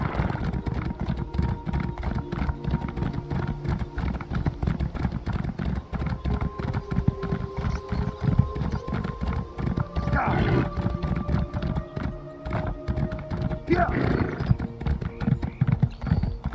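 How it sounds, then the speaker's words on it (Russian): A horse gallops in the video game The Elder Scrolls Online, with rapid, continuous clip-clop hoofbeats throughout, layered over in-game ambience and faint tonal sounds, with a couple of brief snorts or whinnies. "Стало у меня лошадка тоже бегать."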